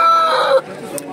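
A rooster crows loudly and up close at the Jama Masjid poultry market, a single drawn-out crow that breaks off sharply, followed by faint market background.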